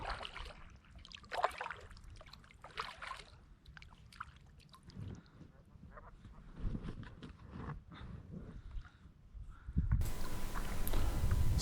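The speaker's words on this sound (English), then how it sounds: "I had to get out in my kayak" Kayak paddling on a small prairie lake in southern Alberta on a calm morning, with soft intermittent splashes and water dribbles from the paddle strokes, close and fairly quiet, and a louder broadband rush near the end.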